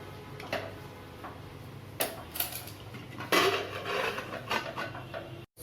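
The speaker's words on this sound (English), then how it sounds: "Now I will open the cooker." Lid of a pressure cooker holding rice, vegetables and pulses being worked open, a run of metallic clicks, clanks and scrapes, close and fairly loud, with no talking.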